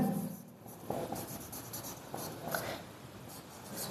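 A pen scratches across paper as figures are written down for a class 10 statistics exercise, a faint close scribbling with short strokes and pauses and nothing else audible.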